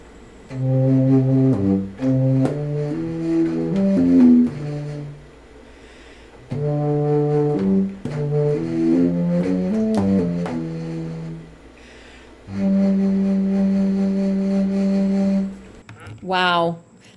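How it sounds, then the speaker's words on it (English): Deep, breathy low contrabass flute tones play a slow melodic line in phrases with short pauses, ending in a quick rising run. "Here's what the contrabass sounds like."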